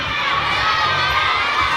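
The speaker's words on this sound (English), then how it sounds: "Alright, everybody yell it out." A crowd of children shouts together loudly in one sustained burst.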